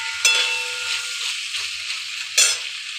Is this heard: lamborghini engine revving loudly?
no